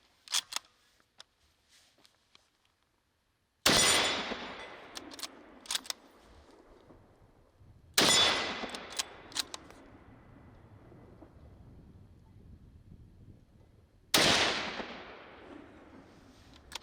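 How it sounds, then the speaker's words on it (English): Three loud, sharp gunshots from a Savage 30-06 rifle, spaced several seconds apart outdoors, each with a long rolling echo, and faint clicks and handling noises between them. "we took the rifle out and shot it just how it came out of the box from the big box store."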